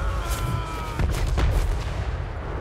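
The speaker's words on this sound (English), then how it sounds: "Oh yeah, my cannons are firing." Heavy booming cannon fire in the video game Total War: Warhammer 3 rolls on continuously, with several loud blasts clustered near the middle over a dense, rumbling battle din.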